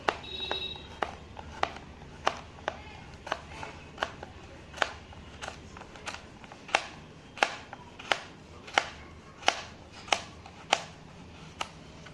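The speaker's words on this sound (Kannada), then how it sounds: "ನೆಕ್ಸ್ಟು ಕ್ಯಾರೆಟ್ ಕಟ್ ಮಾಡೋಣ. ಇದು ಅಷ್ಟೇ ಸಣ್ಣಗೆ ಕಟ್ ಮಾಡ್ಕೋಬೇಕು." A knife chops carrot finely on a board, sharp regular strokes about once every half second, close and crisp, with a quiet background and no talk.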